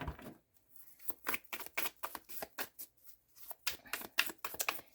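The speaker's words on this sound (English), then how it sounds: "I'm going to cut this deck again." A tarot deck being cut and shuffled by hand, close and fairly soft: a rapid run of papery riffling bursts and card slaps with short pauses in between, no voices.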